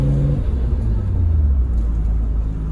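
A 1995 Bayside Blue Nissan Skyline R33 GTR rumbles low from inside the cabin while being driven, its engine note shifting down as the revs settle into a steady deep drone.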